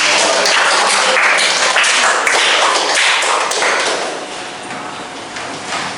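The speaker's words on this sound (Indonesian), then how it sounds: "Tepuk tangan sekali lagi" A classroom of students claps together in a dense, loud burst that gradually thins and fades out.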